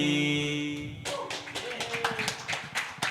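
Scattered audience applause follows a solo performance at a Palembang hip hop culture event, with irregular claps starting after a fading musical tone and continuing unevenly at moderate volume.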